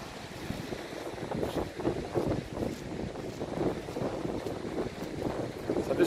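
Gusty wind buffets and rumbles across the microphone in uneven bursts, with a constant rough roar underneath.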